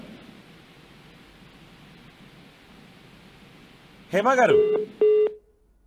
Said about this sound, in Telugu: నటి హేమకు మేము కాల్ చేసే ప్రయత్నం చేసాం.